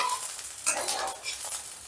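An egg fries in oil in a pan, giving a close, bright sizzle with crackling bursts that rise and fall over about two seconds, with no voices.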